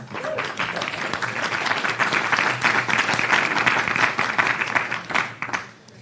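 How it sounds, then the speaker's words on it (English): Audience applause welcoming a speaker at a mangrove ecosystem conservation event; a crowd claps steadily and fairly loudly for several seconds, then the clapping fades out. "An applause for a welcome, please."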